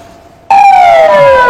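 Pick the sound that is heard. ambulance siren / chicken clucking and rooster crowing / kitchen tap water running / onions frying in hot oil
ambulance siren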